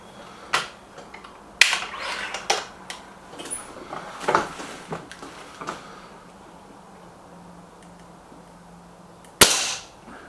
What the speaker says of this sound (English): That's 5 great shots from the Warhawk.